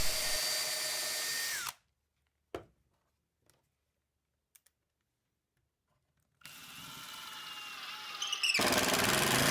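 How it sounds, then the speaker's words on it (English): Power drill pre-drilling holes in a wooden table support during outdoor furniture repair: a loud close whirring burst, a long quiet gap with a few faint ticks, then a second extended whir that ends in louder grinding. "I pre-drew holes in the support to make sure I don't split the wood."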